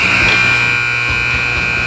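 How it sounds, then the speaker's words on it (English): A loud, steady electronic buzzer sounds continuously at a youth peewee ice hockey game, marking the end of the second period and holding at an even level through the whole span inside the arena. "That's the buzzer for the end of the second period"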